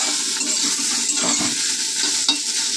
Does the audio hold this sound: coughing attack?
no